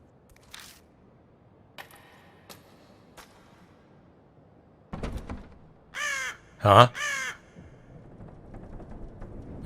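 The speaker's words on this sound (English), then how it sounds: "A bird cry breaks the silence. I guess there's a crow or something outside." Crow caws from the video game Death Mark sound outside in a quiet scene, a few loud harsh calls clustered near the end after faint clicks, with a voice briefly reacting.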